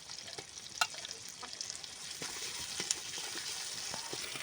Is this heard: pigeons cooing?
no